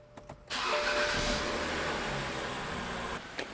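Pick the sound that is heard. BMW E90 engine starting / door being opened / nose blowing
BMW E90 engine starting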